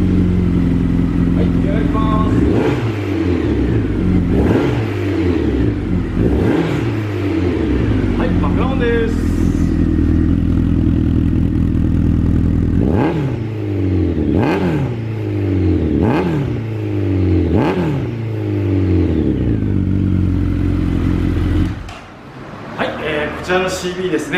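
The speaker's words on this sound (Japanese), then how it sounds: "エンジン始動といきたいと思います" A Honda CB1300 Super Four SP motorcycle engine starts up close, then revs repeatedly in sharp bursts that rise and fall, ending with a mechanical clatter.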